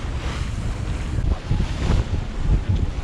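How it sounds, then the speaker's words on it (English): Strong wind of about 21 knots roars steadily over a sailing yacht beating to windward in the Bahamas, a loud, continuous buffeting rush with low rumble and no voices. "It's windy."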